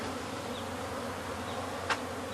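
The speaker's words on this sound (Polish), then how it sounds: "Pszczoły noszą." Steady, dense buzzing of many honeybees at an apiary on flowering rapeseed, a continuous drone with one brief louder pass near the end.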